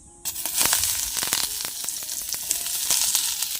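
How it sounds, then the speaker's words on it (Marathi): Grated coconut, onion and garlic fry in a hot pan with a steady, close sizzle, and a few stirring scrapes and clicks break through the hiss. "ओलं खोबरं आहे आणि कांदा लसूण असं सगळं घेतलेलं आहे हे चांगलं असं लालसर भाजून घ्यायचं"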